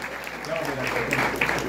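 Audience applause at a job-programme event in Bogotá's District Planetarium, a steady moderate clapping wash with some voices mixed in, filling the short moment without pauses.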